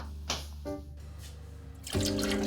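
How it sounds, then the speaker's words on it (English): Canned small white beans rinsed under a running kitchen tap, with bursts of splashing water over a low steady hum, the flow swelling louder near the end; no talking. "So let's give these a rinse and get started."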